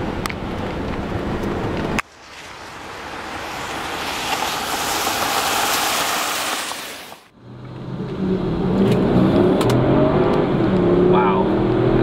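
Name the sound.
Porsche Cayenne Turbo engine accelerating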